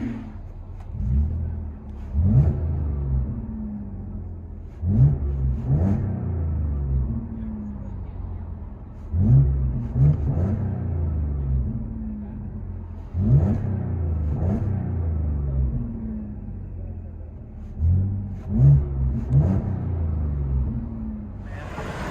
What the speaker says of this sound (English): Audi A7 Quattro rear muffler delete.